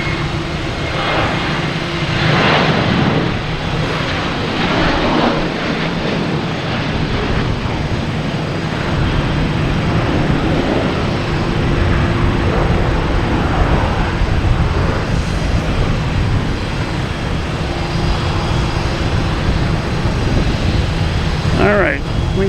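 Airliners at Boston Logan Airport, a steady loud roar of jet engines with broad rushing noise and a thin whine, continuous for the whole stretch, with faint talk now and then underneath.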